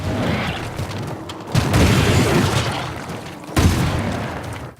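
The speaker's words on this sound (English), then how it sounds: "I love the sound effect on that shotgun." Shotgun blasts from the video game Lost Planet: two loud, heavy booming shots about two seconds apart, each followed by a rumbling tail over a dense background of game noise.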